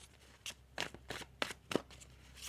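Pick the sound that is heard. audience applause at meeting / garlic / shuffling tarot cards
shuffling tarot cards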